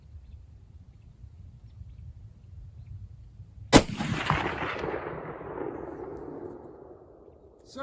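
A single loud shot from a Marlin 336 lever-action rifle in .30-30 fired outdoors toward a distant target, a sharp crack followed by a long rolling echo that fades over several seconds after a quiet stretch.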